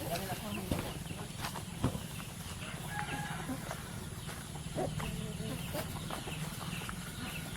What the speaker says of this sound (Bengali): অনেক মুরগি আছে, অনেক